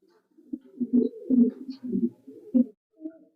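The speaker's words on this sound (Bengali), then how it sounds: "ভাইয়া কোকাগুলো ডাক দেখালো, হালকা ডাকতেছে।" Pigeons at a pigeon farm in Kashimpur, Gazipur, cooing softly and close by in a series of low, rounded phrases with short pauses, no talking.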